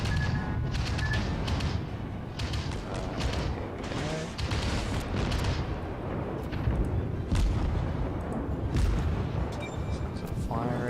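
Warship guns fire in the World of Warships naval battle game, heavy booming salvos and explosions rumbling repeatedly beneath dense battle noise, with someone talking over the action throughout.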